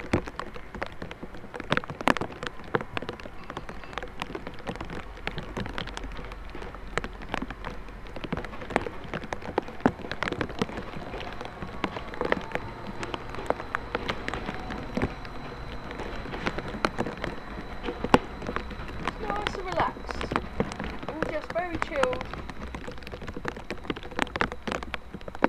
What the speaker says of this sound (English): Raindrops keep falling on my head, going on my head at the moment.